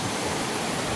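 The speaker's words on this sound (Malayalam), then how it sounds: "ഈ വെള്ളച്ചാട്ടത്തിൻ്റെ അലയോലികൾ ഇവിടെയൊക്കെ നിങ്ങൾക്ക് കാണാൻ പറ്റും" A tall waterfall roars close by in a steady, dense rush of falling water, with no voices.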